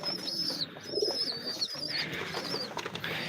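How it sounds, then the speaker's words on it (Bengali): A pair of Imamdin pigeons coo softly in a loft, low throaty calls repeating close by over a steady indoor background hum, with no talking. "এইখানে এক পেয়ার ইমামদিন কবুতর আছে"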